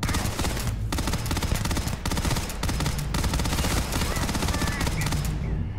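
Rapid automatic gunfire and weapon fire from a sci-fi shooter battle in the video game Starfield, loud and nearly continuous with dense bursts, mixed with game sound and music.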